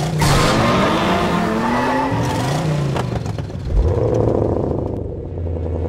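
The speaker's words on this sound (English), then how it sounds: "There's nothing quite like the sound of a V8 engine." A V8-engined car roars loudly and continuously, revving and surging with a brief rising sweep partway through, the engine note settling into a steady rumble toward the end.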